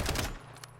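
Striker 45 submachine gun firing in Call of Duty Modern Warfare: a short, loud, close burst of rapid shots lasting under half a second, followed by a faint trailing report.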